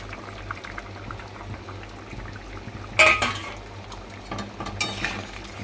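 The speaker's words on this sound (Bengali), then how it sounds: "এগুলো আমি তরকারির মধ্যে মিশিয়ে দেবো" Chopped fried omelette pieces being stirred into a simmering egg curry: a low bubbling simmer with a couple of sudden clanks and scrapes of a spoon against the pot.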